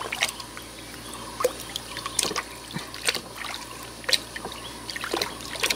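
Water trickling and splashing while bamboo shoots are washed by hand for pickling, with intermittent drips and sharper splashes over a steady faint running flow, no talk.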